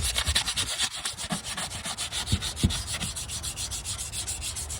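An exhaust tip is hand-sanded with 600 grit sandpaper, giving a close, rhythmic rasping of quick back-and-forth strokes that repeats steadily throughout, with a few soft knocks and no talking.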